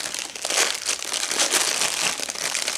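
Continuous crinkling and crushing of plastic packaging while a wax pre-order haul is opened, with dense, busy rustles that stay fairly loud throughout and carry no speech.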